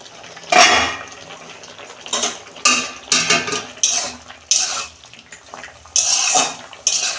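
A metal lid lifted off a cooking pot of boiled flat beans and tomatoes, giving a series of sharp clanks and rattles, close and fairly loud, with quieter scraping between the knocks.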